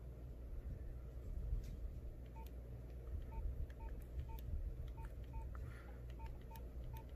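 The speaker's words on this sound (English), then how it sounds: "You can hear the phone functioning" A Nokia 6230B mobile phone with a broken screen beeps out a quick series of short keypad tones, faint and evenly spaced over a low background hum.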